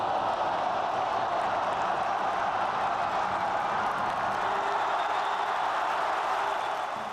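Roar of a 13,000-strong baseball crowd inside the Taipei Dome during a game, a steady dense wash of voices and murmur that holds evenly throughout without distinct peaks.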